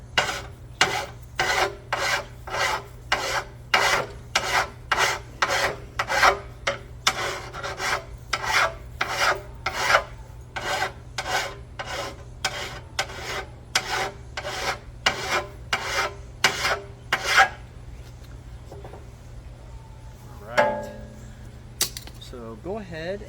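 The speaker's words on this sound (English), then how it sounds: "I'm going to take a file and just clean it up a little bit." A hand file is worked over brazed aluminum with rhythmic rasping strokes, about one per second, close and dry, continuing for most of the stretch before stopping, followed by brief light handling noises.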